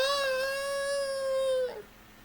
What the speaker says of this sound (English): Oh, my sweetheart kitty is she's so upset